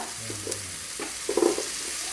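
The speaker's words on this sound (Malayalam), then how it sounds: "അതായത് നമ്മൾ മസാല ദോശയ്ക്ക് ആവശ്യമായ ഉപ്പിട്ട് കൊടുക്കുന്നു നല്ലതുപോലെ ഒന്ന് ഇളക്കുക" Masala dosa potato filling with chilli powder and salt is stirred in a pan, a soft background sizzle broken by a few light spoon scrapes and taps, close by with no talking.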